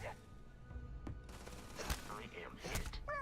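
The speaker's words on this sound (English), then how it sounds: "Let's use the Kraken. It's like an SMG." A Kraken SMG in Starfield fires quick, faint bursts of sharp pops at a distance, mixed with thuds and snatches of in-game voices.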